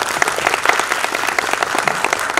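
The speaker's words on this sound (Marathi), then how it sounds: "तर तुमच्या सगळ्यांसाठी एकदा टाळ्या वाजवा" An audience at a pharmacy college music show breaks into steady, dense applause, many hands clapping together close and loud throughout.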